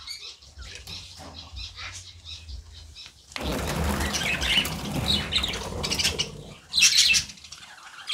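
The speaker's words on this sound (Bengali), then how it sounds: "দেখো কত বদ্রি পাখি আছে, অনেক কালারের বদ্রি পাখি আছে" Young budgerigars in a cage flutter and chirp close by, with faint scratchy movement at first, then a burst of rustling wingbeats and scattered high tweets and squawks.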